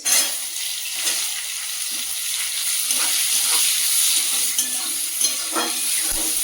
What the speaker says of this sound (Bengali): এবার দিয়ে দেবো কোচানো পেঁয়াজ।